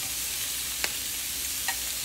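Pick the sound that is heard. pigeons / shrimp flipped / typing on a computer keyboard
shrimp flipped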